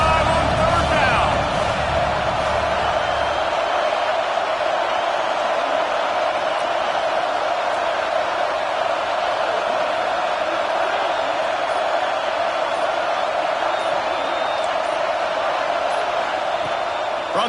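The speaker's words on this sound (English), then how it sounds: "The Buckeye crowd alive on 3rd down." A dense stadium crowd at an Ohio State Buckeyes football game roars steadily on third down, a loud sustained wall of noise with a faint voice underneath at the start.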